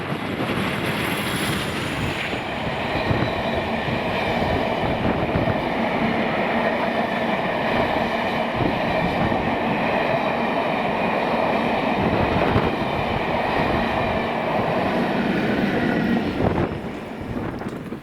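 Diesel locomotives 47593 and 40013 haul a charter train from Leicester to Edinburgh Waverley north of Drem, a loud steady engine drone and rolling rumble with rail clatter throughout, fading slightly at the end under light wind noise.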